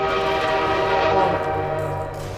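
A train in the video game Portal 2 rumbles past loud and close, with sustained tonal horn-like droning over a low mechanical rumble that fades slightly at the end.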